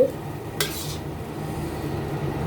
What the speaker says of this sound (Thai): ตักใส่จานได้เลย